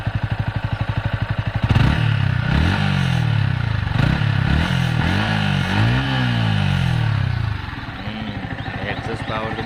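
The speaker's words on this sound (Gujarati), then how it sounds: "થોડો બાઇકનો અવાજ સંભળાવું તમને કેવી રીતનો છે બાઇકનો અવાજ." A Yamaha R15 sport motorcycle idles with a steady close putter, then its engine is revved several times in rising and falling surges before settling back to idle, loud and alone.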